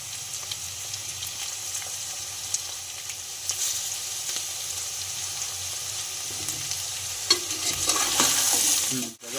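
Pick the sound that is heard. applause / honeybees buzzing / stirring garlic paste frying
stirring garlic paste frying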